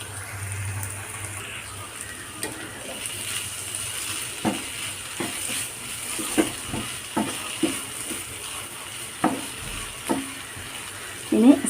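Curry leaves sizzle in a pan of pumpkin and potato stir-fry, a steady low fry under repeated clicks and scrapes of a spoon stirring, with no talking.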